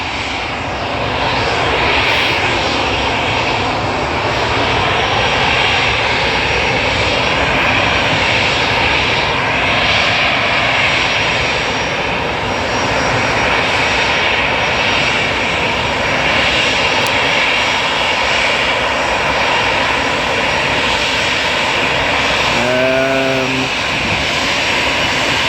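A Jet2 jet airliner's engines roar loud and steady for the whole stretch. The sound is a broad, continuous rumble with a whining tone near the end and no audible talk.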